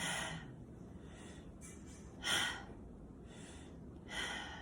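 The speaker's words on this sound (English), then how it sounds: "Inhale, 3 deep breaths." Slow, deep breaths during a yoga stretch, three soft, airy inhales and exhales spaced about a second apart, close and quiet with no talking.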